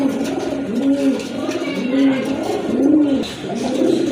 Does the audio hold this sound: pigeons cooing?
yes